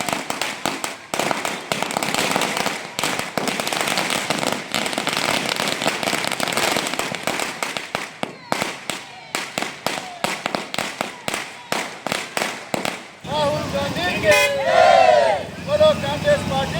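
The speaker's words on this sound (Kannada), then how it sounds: "ವೃತ್ತದಲ್ಲಿ ಪಟಾಕಿ ಸಿಡಿಸಿದ್ರು" Firecrackers burst at a Congress party celebration in a traffic circle in Madikeri as a long, loud, rapid string of sharp cracks. Afterward a crowd cheers and chants while vehicle horns honk.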